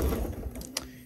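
A sewing machine stitches layers while basting a collar onto a bodice, giving a short mechanical whir with a quick clack near the end, close and fairly quiet.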